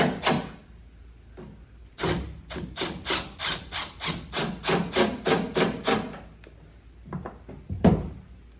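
LED taillights on a 2019 Duramax L5P pickup are pressed back into place and screwed in: a steady rhythmic series of scraping, ratcheting strokes, close and moderately loud, followed by a few scattered clicks and knocks.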